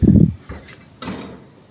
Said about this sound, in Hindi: ऊपर ढकना लगा देंगे